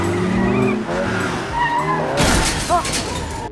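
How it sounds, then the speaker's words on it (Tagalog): Car tires squealing loudly in a skid during a movie chase in which a stolen convertible is driven hard, with engine roar, a sharp crash-like burst and a short voice under the noise. "napilitan si Peter na magnakaw ng sasakyan at hiniram ang convertible ni Flash"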